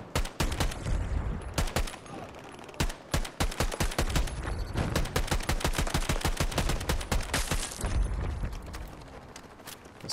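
Battlefield 2042 gunfire, with loud, rapid automatic bursts and single sharp shots that repeat densely and almost continuously throughout, some close and punchy, with brief pauses between volleys.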